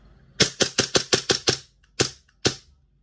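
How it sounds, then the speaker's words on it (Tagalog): A WE Glock 17 Gen 5 gas airsoft pistol fitted with a high-impact hammer roller fires nine sharp, snappy shots: seven in a quick even run, then two more spaced apart, close and loud with no talking. "G17 Gen 5 with high impact hammer roller version 2"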